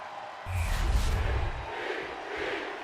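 A wrestling arena crowd in the video game WWE 2K25, set in Bologna, Italy, roaring as a steady, distant-sounding wash of cheering with a deep rumbling swell near the start.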